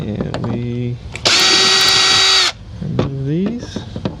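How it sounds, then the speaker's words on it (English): A cordless power drill spins out Phillips screws holding a Jeep Wrangler TJ taillight, with one loud, steady whine lasting about a second, set between stretches of nearby talking. "we are going to grab our drill, and it's actually on this one, it's just 4 Phillips"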